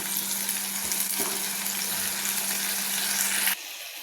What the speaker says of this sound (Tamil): கத்திரிக்காயும் தக்காளியோடய சேர்த்தோம்னா கொஞ்சம் ரெண்டும் வதங்கிடும்